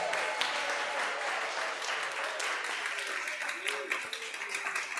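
A church congregation applauds and cheers to welcome new members, with dense sustained clapping, scattered whoops and voices throughout.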